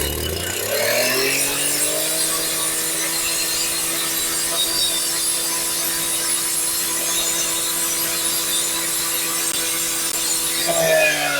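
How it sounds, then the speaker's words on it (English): A gas-powered concrete saw spins up and runs at high revs while cutting a brick, a loud, sustained steady whine with a harsh gritty grinding edge, easing off briefly at the end, with no talk. "So now I'm going to give it a couple of pulls and cut a brick,"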